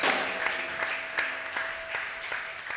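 A church congregation claps together in steady applause, with a series of sharp, regular claps repeating roughly every third of a second over a continuous bed of hand noise in a reverberant hall.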